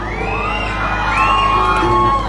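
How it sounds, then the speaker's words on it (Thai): A crowd at a mini concert during an ordination ceremony in Suphanburi, Thailand, screams and whoops loudly and continuously, high shrieks rising and overlapping over a steady low hum. "โอ้โหเพลงช้ายังกรี๊ดกันขนาดนี้เลย"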